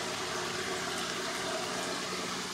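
Water running steadily through a gravity-flow greenhouse watering system, a continuous close hiss and trickle with no voices.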